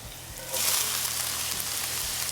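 A sudden burst of sizzling starts about half a second in and continues as a steady, bright hiss of hot oil frying, close and fairly loud.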